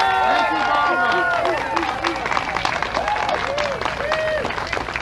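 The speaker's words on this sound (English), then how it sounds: "How about a little bit more of applause for Barbara?" An outdoor crowd at a Tea Party tax day rally on Boston Common claps and cheers steadily, with loud applause carrying on under the hubbub of voices nearby.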